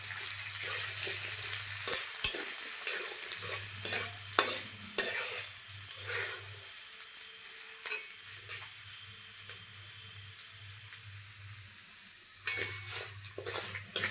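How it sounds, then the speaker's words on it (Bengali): Mung dal frying in a pan with steady sizzle under repeated scraping stirs, strokes coming in bursts with short pauses between, close and fairly quiet, no talking. "মুগ ডাল ভালো করে ভেজে নেব।"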